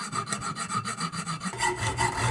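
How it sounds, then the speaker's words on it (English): A cast copper piece with its sprue cut off is sanded down on a lathe, giving a steady, continuous rasping rub that pulses in a regular rhythm and comes through close and clear with no talking. "now I'm going to cut off the sprue and then sand it down."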